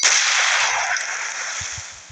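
Gunfire from a headshot kill in the SUBR battle royale mobile game, one loud sharp crack that rings out and fades over about two seconds, with faint low thumps under the tail.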